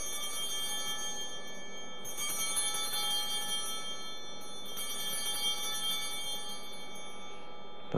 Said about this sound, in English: Then when I lift up the host, that's when we ring the bells differently.